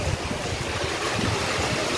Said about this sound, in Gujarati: વરસાદ ચાલુ થઈ જાય, ફૂલ પવન હંગાથી